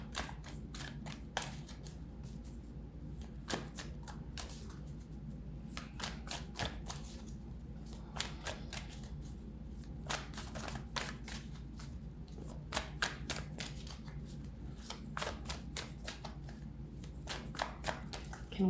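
Tarot cards being shuffled by hand during a reading: dense, continuous riffling and flicking of cards, close and fairly quiet, with a steady low background hum.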